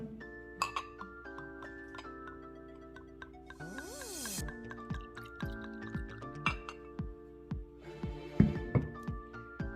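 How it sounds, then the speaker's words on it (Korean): Operatico Spanish red wine is poured into a glass in a quiet room. Soft glugging with a rising fill tone is followed by several light glass clinks and taps. "자 그러면 살짝 한번 따라 볼게요 오페라티코 스페인 와인"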